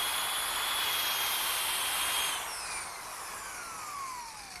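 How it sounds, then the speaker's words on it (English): A drill fitted with a drum sander attachment sands the edges of wooden cutouts meant for shelves: a steady, close, high-pitched whirring rasp that drops in pitch partway through as the drill slows. "this little drum sander attachment that fits on my drill does a great job at sanding out these edges"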